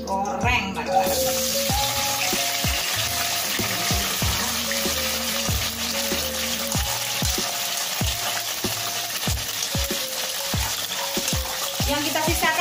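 Chili, tomato, ginger and candlenut for pecak terong sizzle together in hot oil, a steady close frying hiss punctuated by regular clacks of a spatula stirring the pan.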